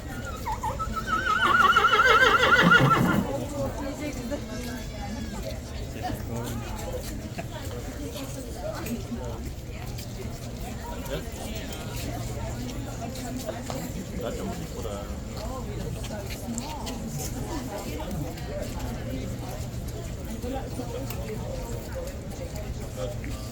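A horse with a police escort in London gives a loud neigh in the first few seconds, then hooves clip-clop faintly beneath steady street noise and voices for the rest of the clip.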